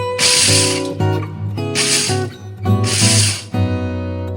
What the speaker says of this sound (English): I'm just going to go super carefully so that we don't grind them up too much.